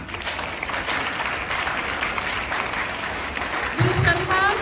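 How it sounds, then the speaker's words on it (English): Audience applause at a school Independence Day celebration: sustained, dense hand clapping from a crowd, with a voice briefly heard over the clapping near the end. "A big hand clap for Hannah."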